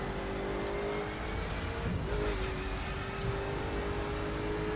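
A Koenigsegg Agera R hypercar in The Crew video game accelerates hard, its steady engine drone shifting in pitch partway through, with no voices.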